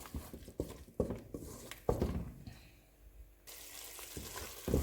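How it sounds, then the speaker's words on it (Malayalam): Tomato puree is sautéed in a pan on a medium flame for chicken lababdar, with a soft sizzle under repeated close spoon scrapes and stirring knocks in an irregular rhythm, and no speech. "എന്നിട്ട് ഒരു 2 മിനിറ്റ് നമുക്ക് മീഡിയം ഫ്ലെയിമിലിട്ട് വഴറ്റാം"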